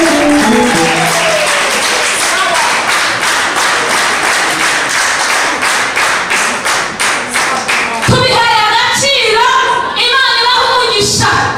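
Audience in a church service clapping, rhythmic hand claps repeating loud and close, with singing voices and music joining toward the end.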